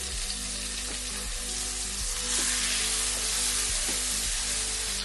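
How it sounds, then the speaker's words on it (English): Marinated chicken in plenty of oil sizzles loudly in a hot frying pan, a constant crackling hiss with occasional clinks of a utensil stirring. "Love the sound of that sizzle."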